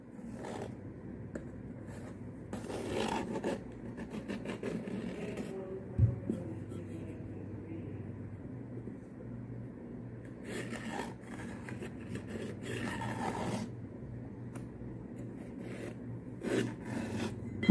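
A pencil traces a circle on square paper around a bowl, giving soft, continuous scratchy strokes in short bursts with gentle rubbing and handling noises between them. The sound is close and quiet, with no talking.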